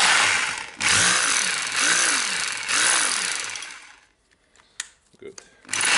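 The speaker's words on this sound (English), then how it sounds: "Just checking the hammering again." A Hitachi DH28PCY rotary hammer runs in hammer mode in short loud bursts, three surges of rattling impact, then drops to quiet handling clicks and brief knocks.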